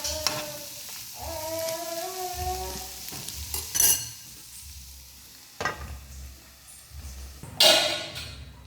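Snake gourd pieces frying with masala in a pan, soft sizzling under intermittent stirring scrapes and a few louder clanks of a spoon against the pan, quiet and close with no talk.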